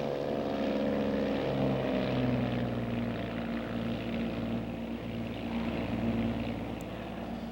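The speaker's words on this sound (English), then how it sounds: "Twin Bonanza 6906 Tango's airborne 25 left" Twin Bonanza twin-engine propeller airplane taking off from runway 25 left, a steady, loud, droning engine roar with layered propeller hum throughout, no voices.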